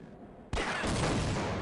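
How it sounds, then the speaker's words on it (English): Sudden loud gunshot burst in Half-Life after a short quiet lead-in, followed by sustained noisy crackle of continued fire or echo up close. "I have to shoot that"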